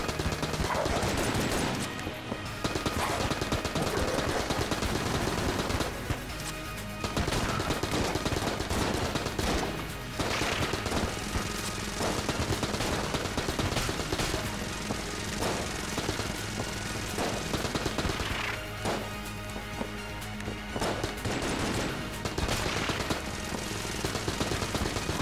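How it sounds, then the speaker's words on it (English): An AK-47 in Enter the Gungeon fires in long, dense automatic bursts with dull explosions mixed in. The rapid gunfire is loud and nearly continuous, broken only by brief pauses. "Time to switch to my boy, the AK."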